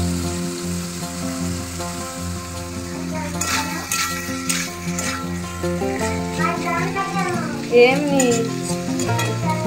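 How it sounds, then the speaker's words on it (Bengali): Pui shak (Malabar spinach) stirred and fried in a pan over a medium gas flame, a steady close sizzle with scraping spatula strokes and light clinks of the pan, and a brief word spoken over it. "তরকারির এই এক্সট্রা জলটা শুকিয়ে নিয়ে ভালোভাবে নাড়াচাড়া দিয়ে ভাজা ভাজা করে নিতে হবে।"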